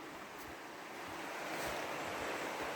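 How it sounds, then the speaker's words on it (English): A river rushing through woods below a hillside trail, heard as a continuous broadband wash of flowing water, steady and somewhat distant, with light wind noise on the microphone and no talking. "And do you see down there through the trees is the river rushing?"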